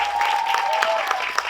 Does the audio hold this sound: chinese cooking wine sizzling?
no